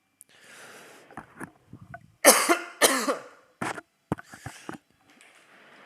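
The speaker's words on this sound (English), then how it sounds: "I'm just coughing on water." A person coughs repeatedly after choking on water, a run of loud, harsh close coughs with sniffs and throat-clearing sounds between them, and no speech.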